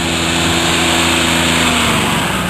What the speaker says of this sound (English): big V motor. Looks like a school bus engine. Turbocharged, intercooled.